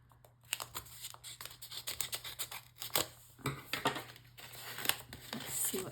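A small pouch from a Rosey Life Planner subscription kit is opened up close, with a dense run of crinkling, tearing and rustling of packaging that rises and falls in quick bursts over a steady low hum.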